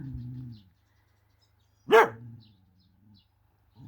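A dog gives a single sharp bark at close range, after some low rumbling earlier on and quiet surroundings, in a rural home during autumn.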